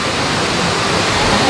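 Waterfalls on a theme park river rafting ride at Silver Dollar City pour in a constant loud, hissing rush of falling water, heard close and unbroken.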